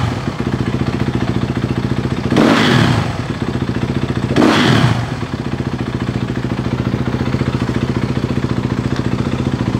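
Beta 125 dirt bike fitted with a Rekluse clutch idling with a steady close putter, blipped twice into short rough revs that fall straight back to idle, with no voices.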